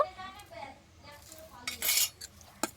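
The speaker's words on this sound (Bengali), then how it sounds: "দিয়ে এটাকে আস্তে আস্তে মেশাতে হবে" Semolina idli batter with yogurt mixed slowly in a bowl, a spoon scraping and clinking against the bowl in a few close strokes, louder near the end.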